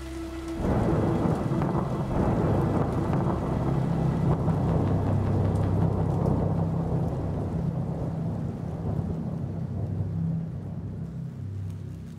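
Heavy storm rain with rolling thunder in the horror game Hollowbody, pounding on a cracked vehicle windshield: a thunderclap breaks in early, then a dense, steady downpour holds with low rumbling underneath, no voices.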